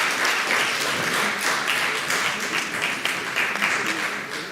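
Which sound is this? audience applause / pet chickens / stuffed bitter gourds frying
audience applause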